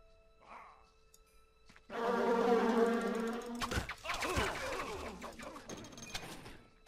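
Buzzing swarm of wasps released from a poison wasp quiver in the video game Nox, a dense insect drone that starts abruptly and holds loudly, mixed with game impacts and effects.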